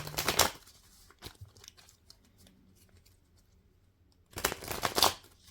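Tarot cards being shuffled in two brisk bursts of riffling and rustling, one at the start and a longer one near the end, with a quiet room between them.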